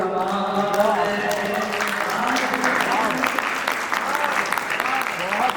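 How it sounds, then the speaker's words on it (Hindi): An audience at a Hindi poetry recital breaks into loud clapping after a poem, with a sustained voice ringing over the start before the applause carries on as a dense, even patter. "जोरदार तालियां"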